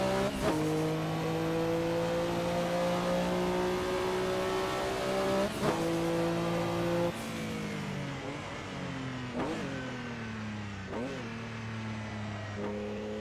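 Race car in Assetto Corsa on a 1983 Long Beach street circuit, its engine droning at a held pitch, then shifting and revving up and down through gears, loud and close with no talk over it.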